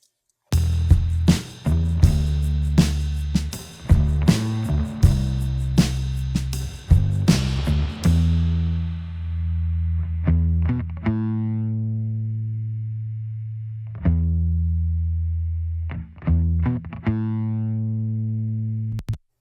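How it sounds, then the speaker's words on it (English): An indie rock song section, bass-heavy with punchy repeated hits, then long sustained bass notes ringing out with a reverb tail on the bass before the beat returns. "you'll hear as it goes back to the verse section that the reverb comes back on the bass"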